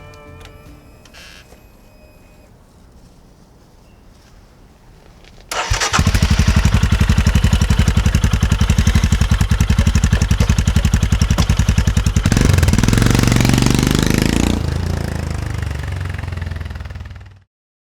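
A Royal Enfield Himalayan motorcycle fitted with a PoweRage exhaust idles quietly, then roars into a loud, rapid, steady thumping run that rises under revving before cutting off abruptly.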